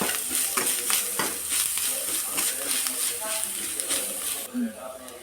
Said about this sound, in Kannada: ಇದನ್ನು ಒಂದು ಸ್ವಲ್ಪ ಫ್ರೈ ಮಾಡ್ಕೊಳ್ಳೋಣ.